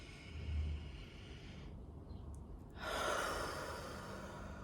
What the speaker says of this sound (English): So another deep inhale.